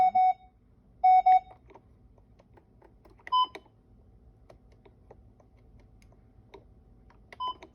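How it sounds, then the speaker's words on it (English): Short electronic beeps sound in brief bursts, two in quick succession then a few more spaced out, over a quiet background with faint clicks. "You can hear the alarm going off."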